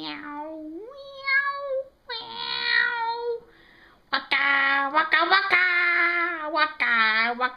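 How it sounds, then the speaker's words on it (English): A cat meows repeatedly, a run of drawn-out, rising and falling cries in varied pitch, close and loud with short breaks between calls. "Meow, meow, meow,"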